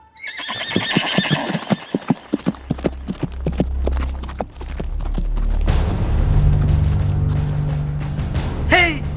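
Horse hooves clip-clopping in a rapid rhythm during a light and sound show, followed by a rumbling boom-like swell and a loud horse neigh near the end, with no talk over it.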